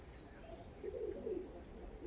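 A male High Flying Madras pigeon gives a short, soft, low coo near the middle, close but quiet over faint background noise.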